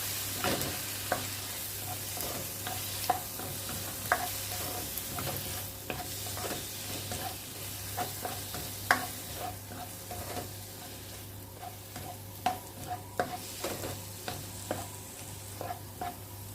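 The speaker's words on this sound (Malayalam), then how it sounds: "പിന്നെ മൂന്ന് കഷ്ണം കുടമ്പുളി ഇത് നന്നായിട്ട് ഇളക്കി കൊടുക്കാം" Steady scraping and clinking of a spoon stirring Kerala-style salmon curry with kudampuli (garcinia) in a pan, the strokes regular and close over a soft background sizzle.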